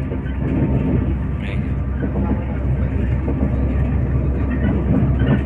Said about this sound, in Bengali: আমরা এখন ট্রেন থেকে নামবো,